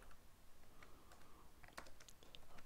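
Soft, rapid keystrokes on a computer keyboard tap out irregular clusters while entering code in Delphi, quiet and close with no speech.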